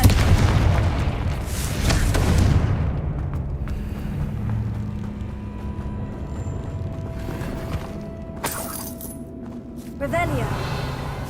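A Confringo fire spell from a video game goes off as a booming blast that rolls and fades, followed by scattered debris-like clinks and a later magical flare, with a voice speaking over it.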